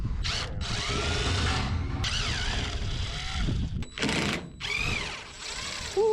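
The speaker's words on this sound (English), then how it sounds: "someone just sent us an impact Phillips screwdriver thingy" An impact Phillips screwdriver backs screws out of scrap metal: loud, sustained whirring and ratcheting bursts separated by brief pauses, with faint talk underneath.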